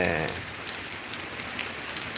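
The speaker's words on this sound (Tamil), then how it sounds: "ஊரில் மழை" Rain pours over a village, a dense, even hiss with scattered louder drops spattering nearby, and no one talking.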